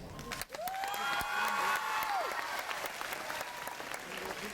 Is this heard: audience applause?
yes